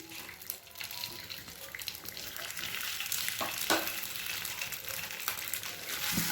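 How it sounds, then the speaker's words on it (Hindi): Idli pieces fry in a pan over low gas flame as they are turned, giving a steady close sizzle with occasional scraping and clinking strokes and no speech. "इन्हें इस तरीके से उलट पुलट करते हुए अच्छे से फ्राई कर लेंगे।"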